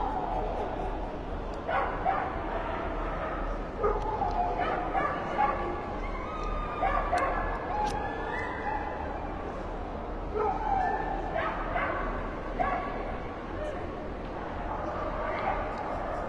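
Chow-chow dogs at an outdoor dog show in Monaco give scattered yips, barks and whimpers through steady crowd murmur, with people talking nearby throughout.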